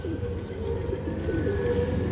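A stone-eyed pet pigeon coos in a loft, soft wavering low calls repeating over a busy murmuring background, no clear talk.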